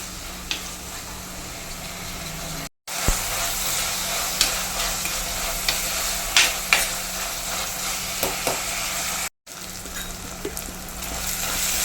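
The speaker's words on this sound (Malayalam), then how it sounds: "ഒരു രണ്ടതിപ്പ് കറിവേപ്പിലയും കൂടി ഇട്ട് കൊടുക്കാം അതും കൂടെ ഒന്ന് മിക്സ് ചെയ്യും ഇതെല്ലാം നല്ലപോലെ ഒന്ന് വാടി വരണം" Onion, tomato, green chilli and curry leaves fry and sizzle steadily in a pan while being stirred, with scattered scraping clicks of the spoon over continuous frying noise; no talking.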